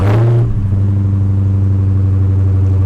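A 2023 Dodge Charger Hellcat Widebody with its supercharged V8 started remotely, a loud close startup flare that settles into a deep, steady, rumbling idle.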